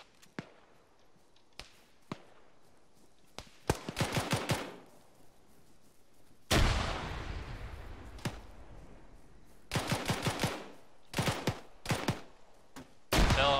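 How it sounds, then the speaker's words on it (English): Sharp gunshots and a loud frag grenade blast in ArmA 3, with scattered single shots and short automatic bursts around one big explosion whose roar trails off for a couple of seconds before more bursts follow. "I'm throwing the frag."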